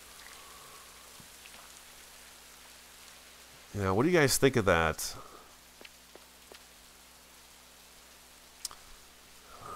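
Rain falls in the Rising World video game, a short loud burst of patter lasting about a second and a half before easing back to a quiet background, with someone talking over it.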